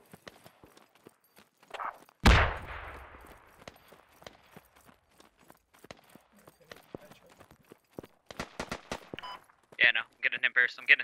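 Gunfire in the military shooter Squad on a forest map: one loud, close shot, then scattered sharp cracks and clicks, with a voice shouting over bursts near the end.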